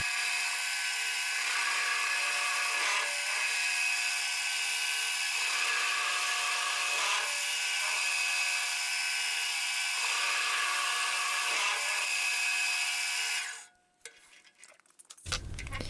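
A lathe turns a steel hex nut into a ring, giving a steady high-pitched whine of cutting with faint rhythmic pulses before it abruptly stops near the end, followed by quiet clatter.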